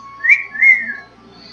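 A person whistles two close, clear, rising-and-falling notes, imitating the eerie whistle attributed to la lechuza.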